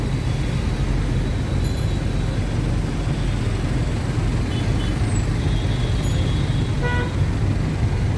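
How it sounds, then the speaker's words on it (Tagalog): Dense, loud street traffic in Bangladesh on the way to the Philippine embassy, with a steady engine rumble and several short car horn toots cutting through, with no talking. "Medyo traffic lang siya."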